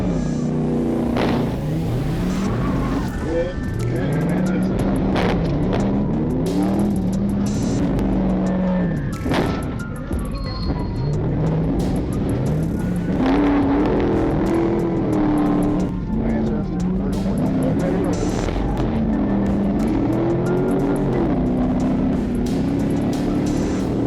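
A car flees police across multiple busy roads, running on a blown-out tire: its engine roars and revs continuously with rising and falling pitch throughout, loud and close, while someone narrates over it.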